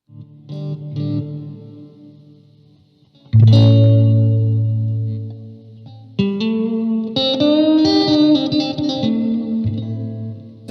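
An electric guitar played through a Spark GO amp with an effects preset rings out in sustained chords and single notes, thick with chorus, distortion and reverb echo, close and full with no talking.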